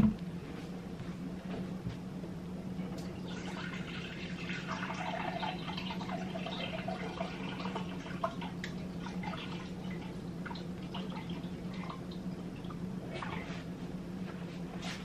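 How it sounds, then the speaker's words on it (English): Water runs steadily into a pot of a pound of dried red beans, a continuous low pouring hiss with faint splashes and drips, moderate and unbroken for the full length. "I think I'm going to add 2 more cups of water because that's a whole pound of beans."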